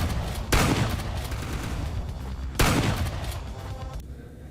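Stationary turret enemy firing in an indie first-person shooter, two loud sustained bursts of rapid gunfire filling the clip, with no talk.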